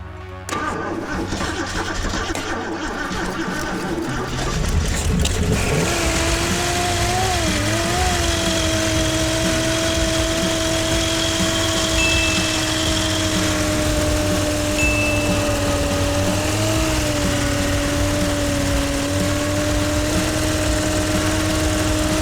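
An abandoned 1976 Jeep CJ5 engine, its mufflers once stuffed with acorns and nuts, cranks and fires up after about five seconds, then runs at a steady, loud idle with a constant droning tone.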